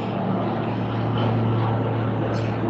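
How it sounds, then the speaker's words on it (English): Aircraft drone from helicopters and planes flying overhead during a monitored situation, a steady low rumble with a constant hum, fairly loud and unbroken throughout, with no voices. "We still have helicopters and planes flying over"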